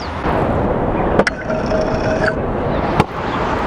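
Skateboard wheels or trucks grinding along a ledge during a beginner grind trick, a steady loud scraping rasp lasting a couple of seconds, with sharp clacks as the board pops on and lands off.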